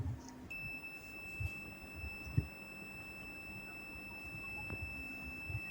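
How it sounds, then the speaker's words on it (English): A steady high-pitched electronic tone from a smart home security system alarm sounds continuously, thin and piercing, over a low background hum with occasional faint knocks. "We got the notification and the alarm buzzing"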